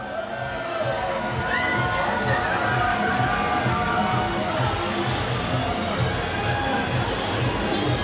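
A parade crowd at a Pride parade in Wilton Manors, Florida, cheers and chatters in a steady, dense wash of noise, with scattered shouts rising out of the general hubbub.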